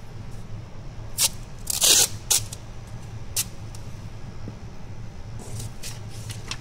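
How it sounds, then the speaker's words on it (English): Masking tape being torn and handled while covering a car body for painting, with several sharp close crinkling rips and a louder crunchy tear, then quieter rustles over low steady background hum. "I'm gonna be using this masking tape here"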